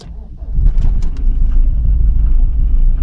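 A 1996 Mercedes-Benz C220 diesel cold-starts up close, cranking briefly and then settling into a loud, rumbling, slightly uneven idle.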